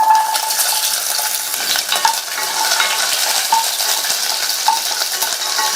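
Small shallots fry in hot oil with mustard seeds and fenugreek in a pan for a Tamil vegetarian lunch, with a steady close sizzle and a spoon stirring and scraping against the metal pan now and then.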